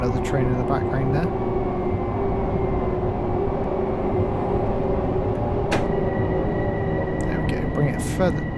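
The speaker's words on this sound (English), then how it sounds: "You can hear another train in the background there." Another train passing in the background in Train Sim World 4, a continuous rumbling rail drone with faint squeals, steady throughout and heard beneath the steady noise of the driven train.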